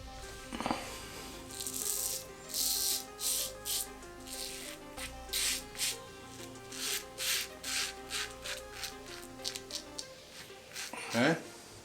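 Close, rhythmic rasping strokes of a safety razor cutting through stubble, roughly a dozen short scrapes in a steady back-and-forth pattern, quiet and alone.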